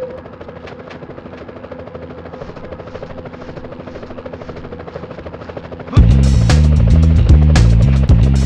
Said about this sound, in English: police choppers.